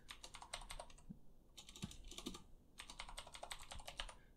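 Password keys for a MySQL setup tapped on a computer keyboard during an Ubuntu server install, fast clicky bursts of typing with a short pause between two runs, close and clear with no talk.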